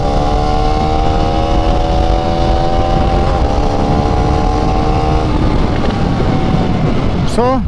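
A KTM Duke 390 Gen 3 motorcycle engine running loud and close as the bike is ridden through the gears, a steady buzzing drone with slowly shifting pitch throughout.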